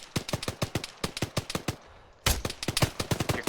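Rapid automatic gunfire in the video game Arma 3, fast bursts of sharp loud shots in a steady rhythm, a brief pause, then another burst.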